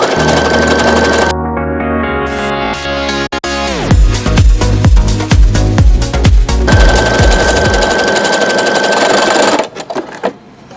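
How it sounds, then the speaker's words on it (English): A Brother SE625 sewing machine fitted with a leather needle stitches through rope, its rapid loud mechanical stitching rhythm running continuously with the motor hum throughout. "there's no resistance with the needle going through this rope because it's the leather needle"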